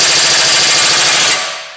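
Rapid pneumatic impact wrench rattling hard as it runs the hub nut onto a Ford Mondeo Mk5 front wheel hub during a wheel bearing replacement, a loud continuous burst close up that cuts off near the end.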